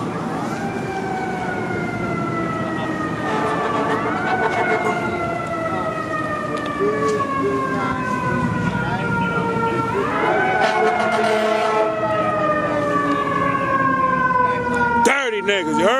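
A police car's wailing siren sweeps up and down steadily for the whole stretch, loud and close, with traffic noise and voices underneath.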